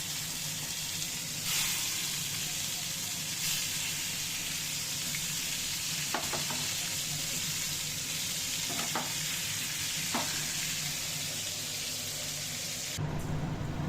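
Fish fries in mustard oil in a pan, a moderate continuous sizzle broken by a few sharp clinks and scrapes of a utensil.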